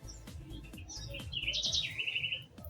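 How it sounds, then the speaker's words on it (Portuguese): A small bird chirps and tweets in bright, quick whistled bursts, fairly close, over a low indoor background hum with no speech. "é esse passarinho"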